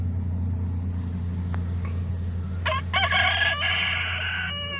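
A rooster crows near beehives, a loud, close call with rising and falling harmonics over the last two seconds, set against a steady low engine-like hum and no talking.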